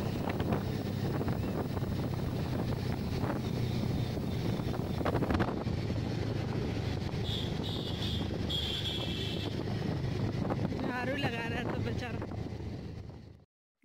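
A motorbike rides along a road in Lucknow with heavy, steady wind noise buffeting the microphone throughout, nearly drowning out the low engine rumble. A faint rattle comes through near the end.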